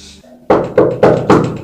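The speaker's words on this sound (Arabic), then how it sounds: "بشوف مين عم يدق الباب" Four firm knocks on a door at a home, evenly spaced and close by, following a brief quiet moment with faint low background sound.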